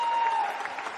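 A crowd at a wheelchair rugby league grand final between the Sharks and Bulldogs claps and cheers steadily, with a faint tone running underneath.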